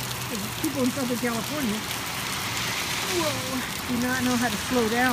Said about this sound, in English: It's raining hard. I love the sound of rain.